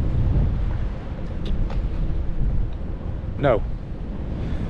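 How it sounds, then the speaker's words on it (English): Wind gusting on an open stretch of the Essex coast, a steady low rumble and buffeting across the microphone with brief louder surges, without pause throughout. "So it's windy, as you can probably tell. You might be able to hear it."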